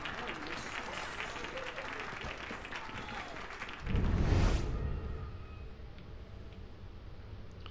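A crowd murmurs and bustles in the Assassin's Creed Unity video game, a busy layer of chatter and movement with a louder rushing swell near the middle, then a thinner background.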